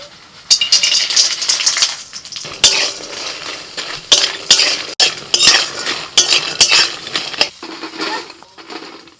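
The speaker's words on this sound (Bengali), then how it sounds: "ডালের বড়ি ভেজে নিচ্ছি" Lentil dumplings (dal bori) frying in a pan bring repeated sharp clinks and scrapes of a utensil against the pan over a soft sizzle, loud and close in irregular bursts.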